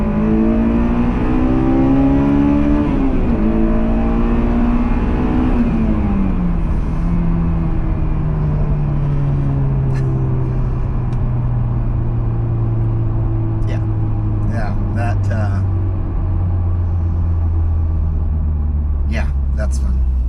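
A Honda engine revs up and then eases off, with a strong droning tone that rises and falls, heard from inside the car with a speaking voice over it and some small clicks.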